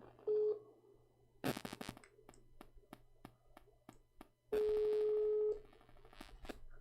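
A mobile phone places a call. A short series of dialing beeps and clicks plays close to the phone, then a long steady ringback tone sounds, and faint ticks and a few more brief tones follow.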